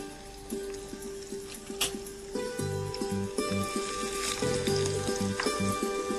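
Chopped garlic sizzling in a pan as the first step of a Florentine risotto, with a steady frying hiss under a repeating pulsed electronic tone and a few faint clinks, no one talking.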